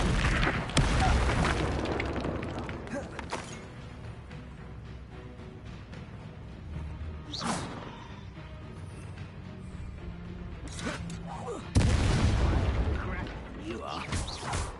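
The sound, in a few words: Incendio fire spell in the video game Hogwarts Legacy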